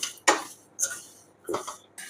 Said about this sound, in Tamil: இப்போ இதில் போட்டு சும்மா லேசாக வறுத்துக்கலாம்